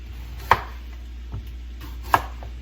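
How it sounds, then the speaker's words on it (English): Two sharp knife chops cut the ends off a plantain on a cutting board, spaced about a second and a half apart, with a faint tap between them in a quiet kitchen. "You're gonna chop off this end, chop off this end, and then go down the spine and cut it open."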